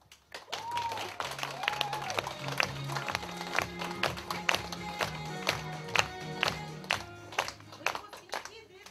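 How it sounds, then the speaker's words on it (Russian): Scattered, uneven clapping from a small audience welcomes children at a kindergarten graduation. The claps are close and sharp, and a voice and music play underneath. "Встречайте их под громкие аплодисменты,"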